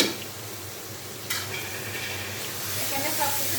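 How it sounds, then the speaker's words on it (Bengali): Beef browning in a pot with turmeric, chili, cumin and coriander powder, a steady low sizzle with occasional stirring scrapes close by. "আজকে মাংসটা একটু ভেজে রান্না করতে আছি"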